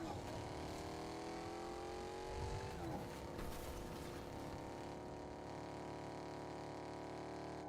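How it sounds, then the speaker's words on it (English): Loud car engines in the video game Fortnite roar steadily and close throughout, with rising and falling revving tones, a gear shift partway through and a constant dense drone. "Man, these cars are so loud"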